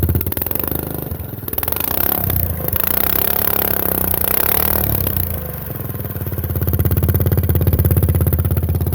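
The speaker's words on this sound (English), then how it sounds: "Alright, get ready to throttle it up." A mini bike engine fitted with a modified exhaust throttles up, a rough clattering buzz that dips, then builds into a louder sustained drone toward the end, heard up close with no speech.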